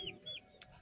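Broiler chickens kept at a home give a few short clucks and soft calls in quick succession, faint and close by, with no talking.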